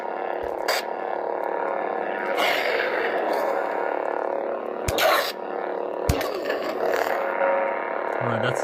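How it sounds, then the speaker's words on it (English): Lightsaber force effect from a Darth Maul sound font, a growling, breathy hum lasting several seconds, broken by a few sharp crackling bursts, fairly close and loud. "You have your force effect sounds."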